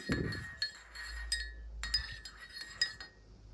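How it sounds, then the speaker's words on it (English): A spoon clinks against a glass while stirring coffee, producing a run of bright ringing chinks, some overlapping and some spaced apart, close and fairly clear with no talking. "I love a good coffee. So I'll just stir it."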